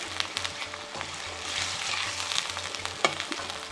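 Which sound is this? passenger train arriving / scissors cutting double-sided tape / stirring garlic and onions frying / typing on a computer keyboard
stirring garlic and onions frying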